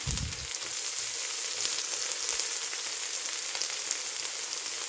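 Organic garden garlic fries in a hot pan, a steady bright sizzle throughout with a brief stir or clatter near the start, close and continuous.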